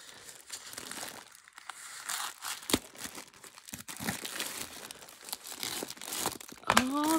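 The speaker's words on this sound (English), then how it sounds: "I'm cutting." Someone cuts open a package of junk-journal supplies, with close crinkling and crumpling of wrapping and tearing sounds. There is some quiet talk, and a brief squeak comes near the end.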